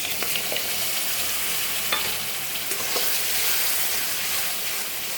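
Boiled tomato and onion paste fries in a pan for ghugni, a dried pea dish, with a dense, steady hiss and faint stirring clicks, close and continuous with no talk.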